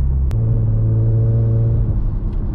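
A tuned Kia Stinger with a TCU tune runs in sport mode at night, its engine holding a loud, close, deep droning rumble with a slight pitch shift early on, alone without voices.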